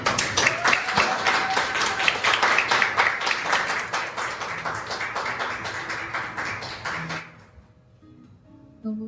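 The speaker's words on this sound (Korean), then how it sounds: "박수!" A church young-adults worship gathering breaks into loud group clapping from the audience for several seconds, rapid and dense, then fading out abruptly into quiet.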